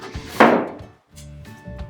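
A wooden floating shelf pushed onto wall-mounted braces, giving one sharp, close wooden knock and then softer scraping and bumping as it slides into a snug fit, with no talk.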